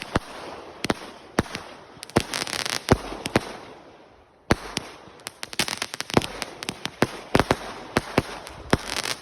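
A King Bird Laughter 200 gram fireworks cake fires off a rapid run of sharp cracks and bangs with crackling between shots, a brief pause, then another dense volley.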